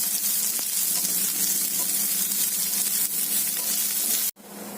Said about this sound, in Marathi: आणि त्यामध्येच आता ही लाल मिरची पण घालूया. ती पण परतून घ्यायची व्यवस्थित.